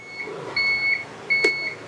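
Two evenly spaced electronic beeps from the turn indicator of an SES Motors Eagle electric scooter, each a clear steady tone lasting about half a second, close and fairly loud, with a soft tap between them.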